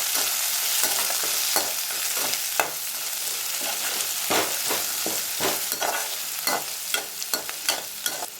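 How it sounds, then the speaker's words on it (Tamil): Crushed garlic, green chillies and curry leaves sauté in hot oil, a loud close sizzle broken by repeated scraping stirs of a spatula, irregular and busy. "இடித்து வச்சுருக்க பூண்டு, பச்சை மிளகாய், கருவேப்பிலை இதெல்லாம் சேர்த்துட்டு நல்லா வதக்கிக்கலாம்"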